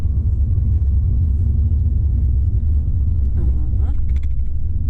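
A car accelerating along a city street in Miami, with a steady loud low engine rumble and road noise throughout, and a faint voice speaking under it.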